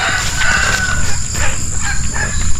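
Several chickens clucking and calling at close range inside a chicken house on a farm, a busy overlapping chatter with a faint steady hum behind it.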